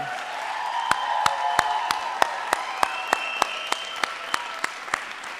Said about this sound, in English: Can we please have a round of applause for Tita Cecile, Mom and Dad, and of course, the bride and the groom.